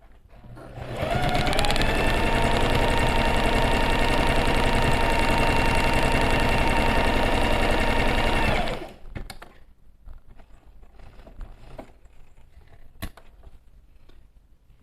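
A sewing machine stitches straight matelassê quilting lines across fabric for a bag, running loud and steady for about eight seconds before stopping, followed by quiet handling noises.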